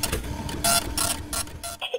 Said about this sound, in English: The printer spits out sheets of paper everywhere.